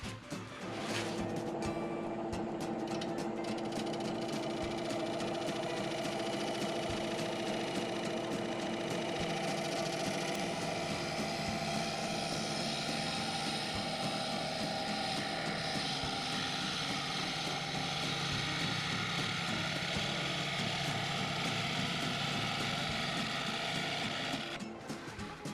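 Glued wood burl spinning on a lathe below 1000 RPM, giving a steady loud mechanical whir and hum with a rhythmic cutting rasp from the tool biting air gaps and wood, continuous throughout with no talk.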